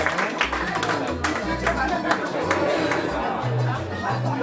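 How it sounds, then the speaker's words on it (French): A ceremonial audience at a launch event gives scattered, modest applause, with clapping mixed into crowd chatter and background music throughout. "Applaudissez s'il vous plaît."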